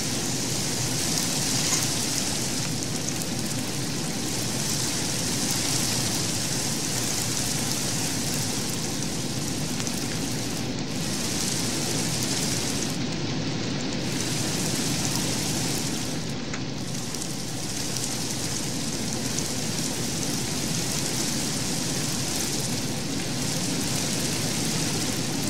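Steady rain falls in the Minecraft modpack Enigmatica 2, a constant broadband hiss and patter with no voices and no distinct thunderclap.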